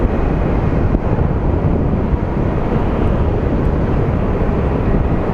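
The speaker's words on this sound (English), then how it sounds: "our SkyWest or Delta Connection flight is off to LAX" A SkyWest or Delta Connection regional jet taking off from Phoenix Sky Harbor International Airport, a steady broad roar at some distance, partly blurred by wind buffeting the microphone.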